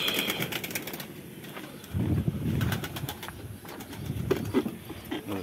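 Pigeons coo softly nearby with bursts of wing flapping and rustling, the low cooing repeating irregularly in a busy loft as the birds go out to the aviary.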